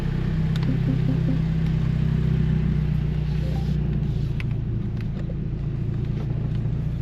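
A BMW F30 sedan fitted with a swapped-in B46 engine and new transmission drives along, its engine giving a steady, loud low rumble and drone that continues without break.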